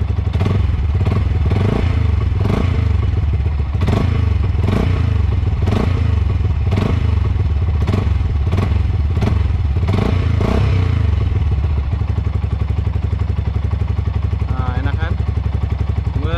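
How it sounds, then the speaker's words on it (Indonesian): A motorcycle engine revs repeatedly in sharp bursts, its exhaust popping and crackling between throttle blips, loud and close, settling toward idle near the end. "Nih gua kasih geber lagi sekali"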